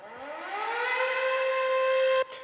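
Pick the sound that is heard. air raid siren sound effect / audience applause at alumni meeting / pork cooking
air raid siren sound effect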